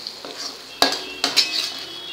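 Pav bhaji vegetable and spice mixture stirred in a pan, a utensil scraping and clinking against metal in a few sharp knocks over a soft sizzle, close and fairly loud.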